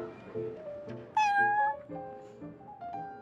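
A cat meows repeatedly in a string of drawn-out, tonal cries, one rising louder and higher midway, with a soft musical backing underneath.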